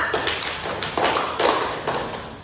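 A classroom of students clapping together in counted bursts, with several sharp, fairly close rounds of hand claps separated by brief pauses and no talking.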